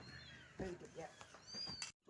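A cat meows faintly in a soft, drawn-out cry during a family meal, mixed in with nearby voices and clatter.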